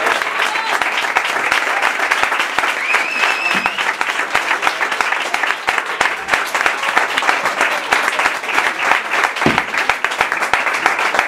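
Audience applause after a live performance of a song, a dense, steady wash of many hands clapping, loud and close, continuing without a break for the whole stretch with faint crowd voices underneath.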